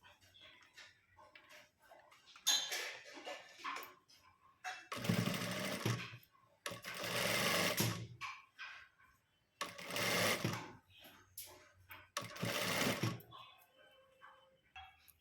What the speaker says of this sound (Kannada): ಈ ಲೈನಿಂಗ್ ಎಂಡ್ ಮೇಲೆ ನಾವು ಒಂದು ಸ್ಟಿಚ್ನ ಹಾಕ್ಕೋಬೇಕು